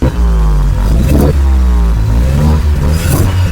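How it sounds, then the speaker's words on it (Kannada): A Tata Altroz Racer R3 with its 1.2 litre turbo petrol engine revs hard and loud close by, the exhaust note rising and falling in repeated blips without pause. "ಸೊ ಇದರದ್ದು ಎಕ್ಸಾಸ್ಟ್ ನೋಟ್ ನ ಕೇಳ್ಕೊಳ್ಳಿ, ಎಷ್ಟು ಸ್ಪೋರ್ಟಿ ಆಗಿದೆ."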